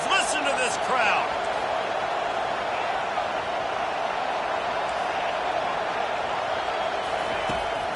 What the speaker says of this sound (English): They've got him pinned back, and they're trying to rattle their eardrums. Listen to this crowd.